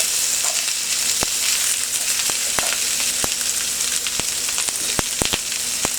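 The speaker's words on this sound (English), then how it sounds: "I get an incredible amount of heat, and that I get the sizzle that I'm getting now" Loud, steady sizzling of food frying in a hot carbon steel wok, a continuous crackling hiss punctuated by sharp pops and clicks.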